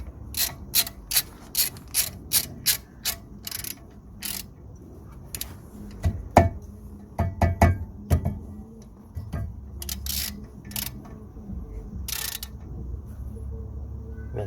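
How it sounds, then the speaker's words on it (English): Ratchet clicks as a bolt is tightened back onto the rear brake disc hub of an Audi A3/RS3: a quick run of sharp, evenly spaced ticks, then bursts of clicks with some clunks and handling noise, close by with no talking. "Just gonna secure the bolt back on."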